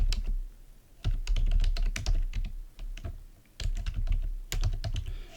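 Someone types Python code on a computer keyboard in bursts of rapid, close clicking keystrokes separated by short pauses, with no voices.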